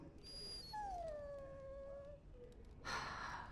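A dog in Dragon Age: Origins gives a thin, drawn-out whine that slides downward in pitch, fairly quiet and alone, followed by a short breathy noise at the end.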